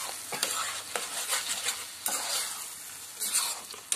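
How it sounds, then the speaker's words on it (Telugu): Five beaten eggs stirred briskly in a bowl, giving a close, steady scraping and swishing with occasional sharp clinks of utensil against the bowl, heard alone without talk. "ఐదు ఎగ్స్ కదా, బాగా మిక్స్ చేసుకోవాలి కదా"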